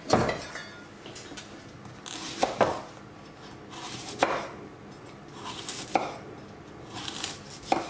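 Half a fennel bulb is sliced finely with a knife on a board, a series of sharp, close cuts spaced a second or two apart with faint scraping between them.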